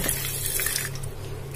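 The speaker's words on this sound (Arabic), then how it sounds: "الميه اهي بتغلي" A pot of water heating on a stove for cooking cow trotters with vinegar and salt, giving a steady close rushing, bubbling wash that runs without pause and has no speech.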